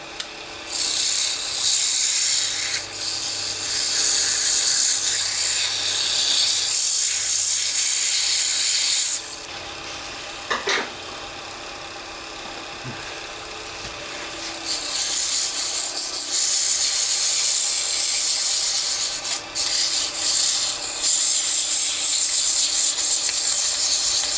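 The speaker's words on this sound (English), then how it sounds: "now that we've sanded in a circular motion, we want to come back in and sand with the green." Sandpaper rubs in circles on a turned pen blank spinning on a lathe, making a steady loud hissing rasp that stops briefly near the middle before carrying on with no talk.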